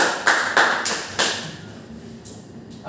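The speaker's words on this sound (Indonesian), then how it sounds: "minta tepuk tangan buat Mas Jeffrey." Students in a classroom clap, a handful of loud, sharp hand claps close by, spaced irregularly and then dwindling to quieter scattered taps.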